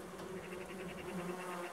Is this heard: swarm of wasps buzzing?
yes